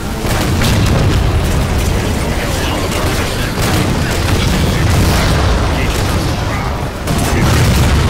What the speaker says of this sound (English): the explosions are way too loud